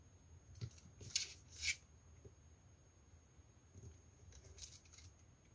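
Scissors snip the corners of paper at a slight angle for a small album box, giving a few close, quiet cuts near the start and then a soft rustle over a hushed room.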